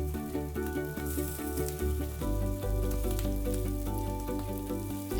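Prawns and Norway lobster stir-fry in hot oil for a seafood paella, sizzling steadily and crackling up close, with a continuous tonal hum underneath.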